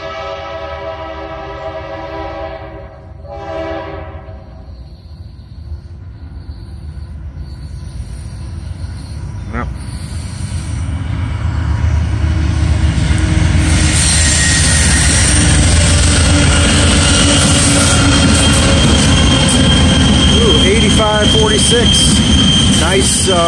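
A southbound freight train led by an SD50-2 locomotive passes close by, its horn sounding early before a loud, steady rumble of engine and wheels builds and holds to the end.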